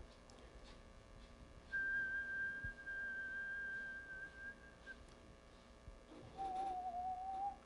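A person whistles two long, steady pure tones during an acoustic measurement demonstration, the first held for about three seconds, then after a pause a second, lower tone, alone over faint room hiss.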